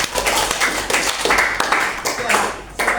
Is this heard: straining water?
no